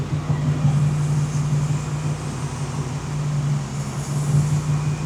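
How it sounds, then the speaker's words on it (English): A Porsche 928 fitted with a TPI engine idles high with a steady, loud, even drone and a constant low hum in a workshop, with no talking. "Why is it idling so high?"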